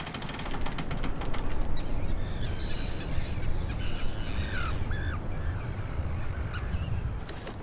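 Arctic terns give shrill, rasping calls as they dive at a young polar bear on a small islet, a few sharp cries over steady wind and water noise, at moderate distance.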